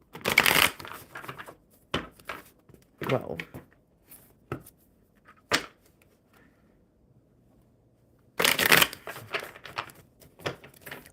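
Deck of oracle cards being shuffled by hand in bursts of riffling and rapid flicking, loudest at the start and again near the end, with a short exclamation from a woman and quiet pauses between.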